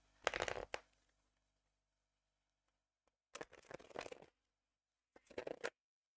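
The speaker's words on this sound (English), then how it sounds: "let me shuffle the cards" Tarot cards are shuffled in three separate bursts of rapid riffling and crackling, close by, with quiet pauses between them.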